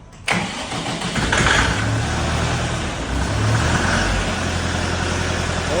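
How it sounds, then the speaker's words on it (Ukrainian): The diesel engine of a new Dongfeng 404G2 tractor cranks and catches on its first start, then settles into a steady, loud running rumble close by, with no voices. "І робимо перший запуск трактора Донфенг 404G2."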